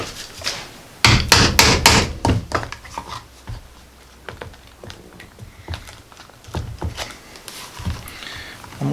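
Sharp hammer blows set a rivet into a leather knife sheath, a quick burst of loud strikes early on followed by scattered lighter taps and handling knocks.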